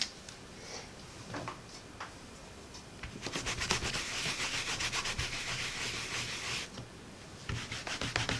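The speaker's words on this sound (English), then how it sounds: "I just want to get this stamp cleaned really good and make sure I don't have any lint on it" A rubber stamp is scrubbed clean on a Stampin' Scrub pad, making soft scattered rubbing at first and then a steady, rapid back-and-forth scrubbing rasp at close range that stops briefly before starting again.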